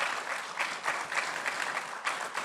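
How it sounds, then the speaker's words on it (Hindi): Audience applause from a seated crowd at an interview event, a brief burst of many hands clapping, steady and fairly close, with no talk over it. "बहुत अच्छी बात है कि बम्बई में लोग ताली बजाते हैं"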